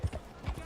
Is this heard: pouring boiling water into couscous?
no